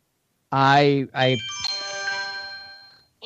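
A text message notification alert plays a short ringing chime that rings out and decays, directly after a loud spoken voice and with no talk over it.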